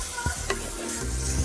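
Half a kilo of beef sizzling in a hot pan for a Kasaragod-style beef varattiyathu, a steady close hiss of frying with a couple of sharp stirring scrapes near the start.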